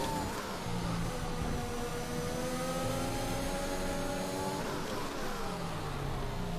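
Several F1 2021 race cars run wheel-to-wheel in a video game race, engines whining in a steady, dense drone with overlapping pitch sweeps as they shift and chase, loud and continuous with no talk.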